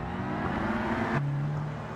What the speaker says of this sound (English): Revs are rising here at Watkins.